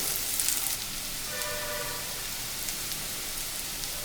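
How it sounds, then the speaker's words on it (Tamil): Onions sauté in a pan over a medium flame for a banana fry, a steady soft sizzle like light rain heard close, with a brief louder burst at the start. "அதுக்கப்புறம் வெங்காயம் போட்டுக்கலாங்க. அடுப்பை மீடியம் ஃப்ளேம்லேயே வச்சு வதக்குங்க."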